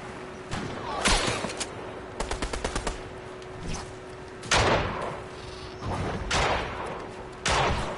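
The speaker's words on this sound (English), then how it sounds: "Oh, they're shooting at the shark." Fortnite guns shoot at a shark, with a quick string of sharp automatic shots in the middle and heavier single blasts before and after. The shots are loud and close, set against in-game ambience.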